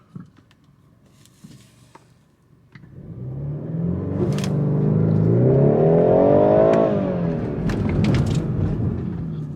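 A 2021 BMW 430i turbo car accelerating hard over a bumpy road: a quiet idle first, then the engine swells into a loud, rising rev with a rumbling, rattling undertone that climbs and holds near the end.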